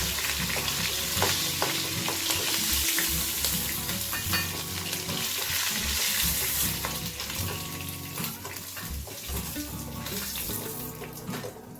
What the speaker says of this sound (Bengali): এইভাবে বাকি ভাজাগুলো করে দেবো, ভেজে নিচ্ছি